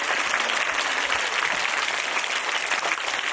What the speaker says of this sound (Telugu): మన స్కూల్ డైరెక్టర్ గారికి ఒకసారి గట్టిగా క్లాప్స్ కొడదాం అందరం